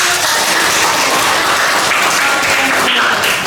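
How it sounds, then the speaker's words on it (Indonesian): Audience applause at a nursing lecture session, a dense burst of clapping that stays loud and steady for a few seconds before easing off at the end. "Oke, kita beri aplaus."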